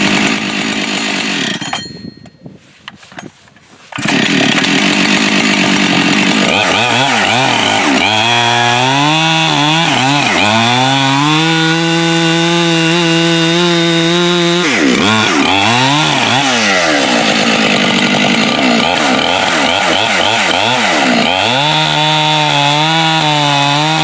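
A Husqvarna 585 chainsaw cuts through wood, its engine loud and close, revving hard and shifting pitch as the chain bites, after a brief quieter idle early on.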